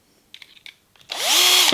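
A power drill used to work apart old clamped-up tyres whirs up after a few short knocks, its motor pitch rising and then holding a loud, close, steady whine.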